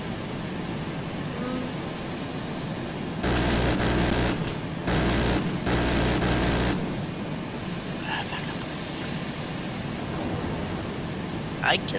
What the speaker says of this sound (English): Alright, I'm landing.